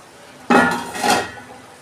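A metal lid lifted off a cooking pan of bitter gourd (uchhe) on a low gas flame, giving one sharp clatter followed by a softer second clink, close and brief.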